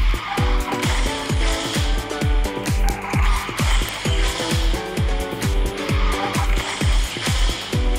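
Racing car in the mobile game QQ Speed Mobile driving at speed with steady engine roar, accompanied by a quick, regular pulsing beat of game music and tire skid noise throughout.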